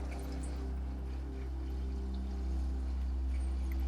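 An aquarium filter pump in a small low-tech shrimp tank starts up with a steady low hum and soft gurgling as it pushes out air bubbles, quiet and continuous.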